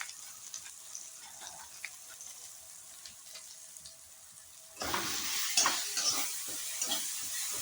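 Masala frying and being stirred in a pan for a mushroom dish: a quiet hiss for the first part, then a loud, sustained sizzle with scraping stirs from about halfway through.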